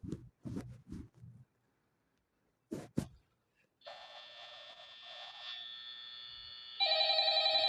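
Telephone ringing in the horror game Five Nights at Freddy's: a sustained electronic ring starts partway through and grows louder near the end, after brief bursts of nearby speech.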